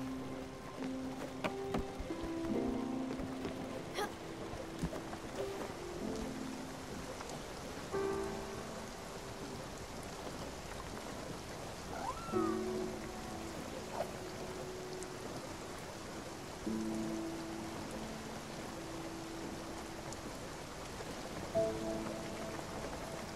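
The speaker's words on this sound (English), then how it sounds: "we'll cut through the rain" Steady rain falling in the video game Spiritfarer, a soft continuous hiss of drops, with faint musical tones drifting underneath throughout.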